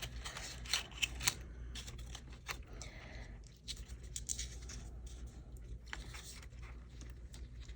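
Scissors cutting out a piece for a faux book box craft make quiet, scattered snips and crisp little clicks, close but soft, in an otherwise hushed room.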